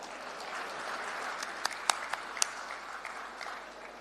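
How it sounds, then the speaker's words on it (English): Applause from an audience at a factory inauguration event in Punjab, a steady moderate wash of clapping with a few sharper individual claps standing out, heard from a distance. "a huge round of applause, please"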